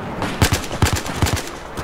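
Rapid bursts of gunfire in Battlefield 4, roughly three close, evenly spaced pairs of sharp shots within two seconds, loud and punchy with no talk over them.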